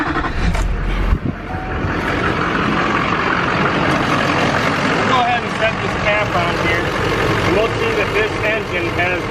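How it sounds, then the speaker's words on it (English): A Duramax diesel pickup engine runs steadily close by, a rough continuous rumble with some clattering, after a brief thump near the start. "we can go ahead and start this up and we'll check the blow-by on this truck"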